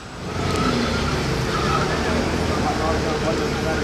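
A loud orange Mercedes-AMG GT Black Series roars past close by in Monaco in a sustained rush of engine and road noise, with voices murmuring in the background.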